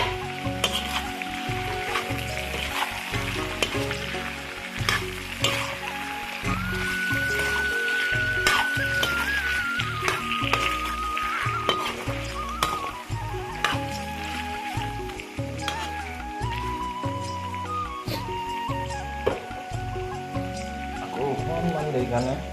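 Assamese pork curry sizzles in a pan on low flame after a large cut potato is added, a steady frying hiss under a person talking and background music.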